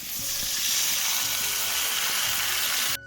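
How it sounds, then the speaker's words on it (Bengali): Water poured onto sautéed spices for a fish curry brings a loud, close sizzle and bubbling hiss that holds steadily for about three seconds before cutting off. "মশলা কিন্তু কষানো হয়ে গেছে, এবার আমি জল দেবো।"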